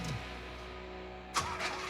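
A turbocharged Trans Am engine cranks and catches, a low steady rumble with a brief rising burst partway through, heard quietly from a short distance.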